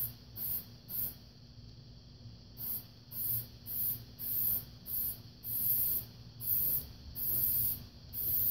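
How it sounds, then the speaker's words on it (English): Short bursts of white spray paint from an aerosol can for a first coat, a dozen or so crisp hissing spurts in an uneven rhythm, close and fairly loud with brief pauses between. "Alright, so we're going to spray it again. And this time, it's going to be smaller spurts."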